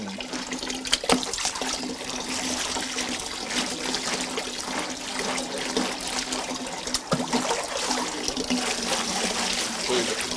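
Organic corn being washed in water for tamales, a steady close sloshing and trickling of water with occasional louder splashes, with a person talking faintly at times.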